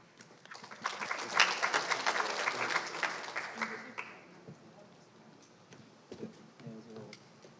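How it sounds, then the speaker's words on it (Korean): An audience at an international energy transition conference applauds to welcome a speaker. The clapping builds quickly, peaks in the first few seconds, then thins to scattered claps with faint room sounds. "큰 박수로 맞아주시기 바랍니다"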